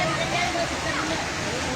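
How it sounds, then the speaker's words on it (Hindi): Vehicles drive through floodwater on a street in Gangapur City after heavy rain, producing a continuous loud rushing and sloshing wash of water that covers the whole stretch. "इस समय हमारे पे आप देख सकते हैं पानी में से वाहन गुजरते हुए।"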